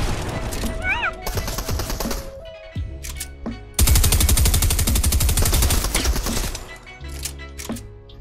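Rapid bursts of video game gunfire crackle loudly in dense volleys, broken by short pauses, with a heavy sustained barrage in the middle and excited voices heard faintly between shots.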